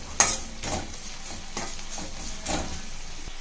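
Spoon scraping and stirring mint leaves in a hot pan for rava khichdi, with a soft sizzle underneath and occasional metallic clinks.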